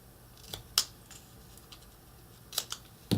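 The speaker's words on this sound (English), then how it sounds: "I'm going to make a release cut at each one of these" Scissors make a few sharp, separate snips while cutting release cuts into slipcase board. The cuts are close and crisp, with quiet gaps between them and no voices.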